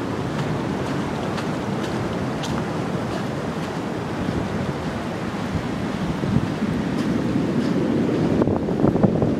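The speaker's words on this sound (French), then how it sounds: "Voilà, c'est arrivé jusqu'au rempart. Voilà, l'eau se retire." Ocean waves wash up against a seaside rampart and draw back in a continuous broad rush of surf, mixed with wind buffeting the microphone, close and fairly loud with no voices.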